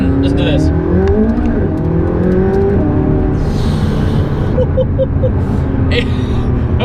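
A McLaren 570S sports car engine revs loud and close, climbing through rising pitch sweeps and then settling into a rough steady drone, with speech over it.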